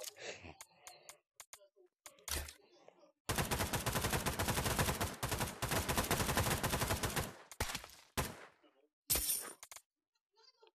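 Bursts of AK rifle fire in the multiplayer VR shooter Pavlov, a long sustained automatic volley of about four seconds framed by shorter sharp shots and clatter, loud and close.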